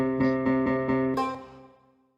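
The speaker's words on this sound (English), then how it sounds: "it has Vina, which sounds like this" A veena plugin plays a short plucked run of about five notes, then a final note that rings out and fades away.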